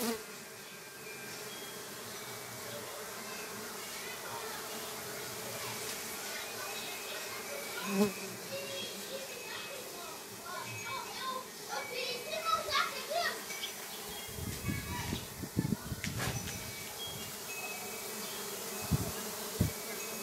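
Uruçu Nordestina stingless bees buzz around the entrance of a hive box, a continuous close insect hum with faint voices and thumps toward the end.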